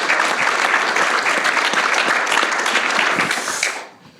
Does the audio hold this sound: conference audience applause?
yes